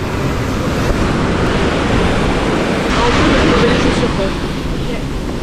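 Ocean waves at Mirissa beach, Sri Lanka, wash in as a continuous loud roar of surf with wind buffeting the microphone throughout.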